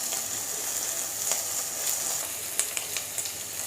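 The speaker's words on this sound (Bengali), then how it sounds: "এবার আদা রসুনটা দিয়ে একটু ভাজা ভাজা করব" Ginger and garlic sizzle in hot oil in a pan as a steady bright hiss, with a few sharp crackles and pops toward the end.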